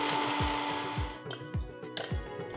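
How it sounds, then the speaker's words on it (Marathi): A mixer grinder whirs as it grinds goda masala spices, running loud and steady while the dry spices rattle around the jar in rhythmic thumps about every half second. "सो आपण आता हा मसाला सगळा ग्राइंड करून घेऊया।"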